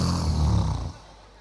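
A voice imitates a husband snoring with one loud, rough, guttural snore that drops off abruptly.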